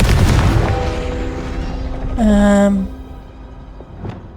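A Confringo blasting spell goes off in a Harry Potter video game, a short loud burst with a bright rising whoosh and boom about midway, set against game music and a faint later pop.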